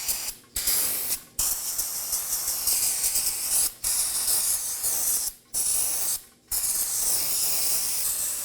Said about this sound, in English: Now I'm going to take some brake cleaner and a rag and spray this portion of the engine down.